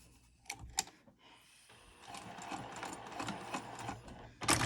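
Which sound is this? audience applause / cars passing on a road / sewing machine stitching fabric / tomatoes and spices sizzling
sewing machine stitching fabric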